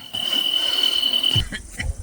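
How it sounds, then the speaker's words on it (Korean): A steady, high-pitched cricket trill rings continuously at night, heard from inside a camper van, then cuts off, leaving a few soft low thumps and faint rustling. "밖에 소리를 들으니까 귀뚜라미 소리가 들립니다"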